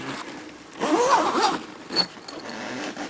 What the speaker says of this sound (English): Gonna zip it up.